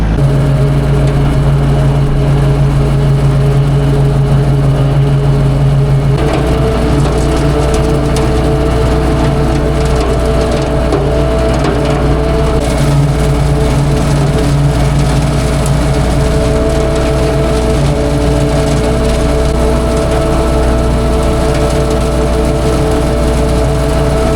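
A loud, steady engine drone with a strong low hum and shifting mechanical whine, a tractor mower cutting a strip of grass on a hay farm, running continuously nearby.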